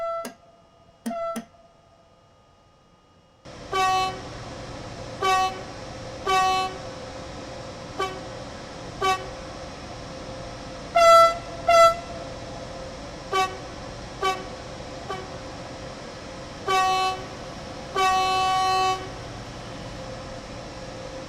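Repeated train horn blasts from a German BR110 locomotive in Train Sim World 4, the Bremen–Oldenburg route, triggered via a RailDriver controller: a dozen short and medium two-tone toots, some held longer, over steady cab hum after a near-silent start.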